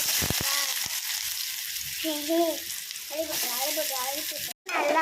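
Prawns sautéing in hot oil in a pan, a steady bright sizzle with stirring scrapes throughout, while someone talks over the frying.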